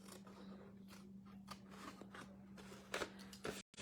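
Scissors snipping and scraping through a paper treat box along its score lines, a steady run of close, crisp cuts and rustles with a low hum underneath, ending in a brief dropout.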